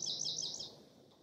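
Birds singing outdoors on a pretty day, a bright burst of warbling chirps up close that trails off after about half a second into quiet background.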